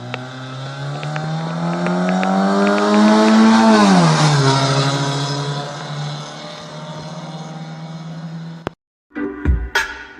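A Honda car engine on a sound check in a repair shop holds a loud, close, sustained drone, climbs in pitch as it is revved, drops back and holds steady, then cuts off abruptly, leaving a few brief knocks and thumps.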